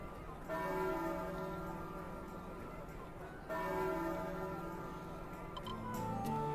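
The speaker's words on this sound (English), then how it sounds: "Hey, the bells!" Church bells ring out in the Final Fantasy Crystal Chronicles: Ring of Fates video game, two tolling peals a few seconds apart, each ringing on with a long sustained shimmer of overtones over quiet ambient game music.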